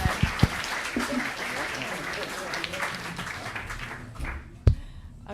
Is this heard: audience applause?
yes